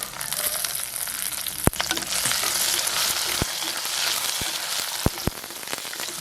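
Garlic, green chili and curry leaves frying in hot oil, a steady close broadband sizzle with a few sharp pops and crackles scattered throughout.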